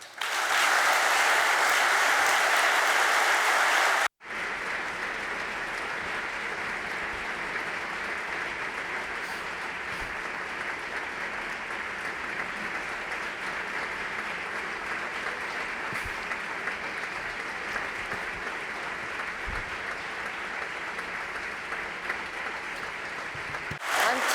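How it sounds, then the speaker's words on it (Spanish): Warm, sustained applause and ovation from a theatre audience at the Círculo de Bellas Artes, loud and dense at first, then briefly cut and continuing as a steady wash of clapping for over twenty seconds. "escuchando este aplauso cálido, esta ovación"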